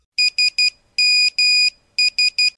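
Nokia's classic SMS text message tone rings out loud and clean: three short beeps, two long ones, then three short beeps again, alone with no other sound.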